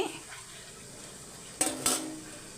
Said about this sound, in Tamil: இப்படி பாதியாக மூடி வச்சிடலாம்